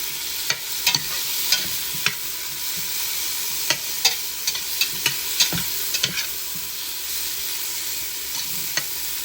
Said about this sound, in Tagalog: Yung nagustang kamatis at saka sibuyas natin.